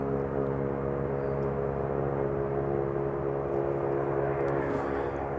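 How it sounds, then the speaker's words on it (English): An Airbus A321 airliner at DFW Airport gives off a steady, continuous engine drone with tonal hum layered over broadband rumble, holding even and moderately distant throughout. "And Airbus A321."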